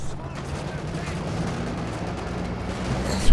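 Heavy gunfire and booming blasts from a video-game battle involving a PTRS anti-tank rifle penal squad roll on as a continuous dense rumble, building to a sharper, louder burst at the very end.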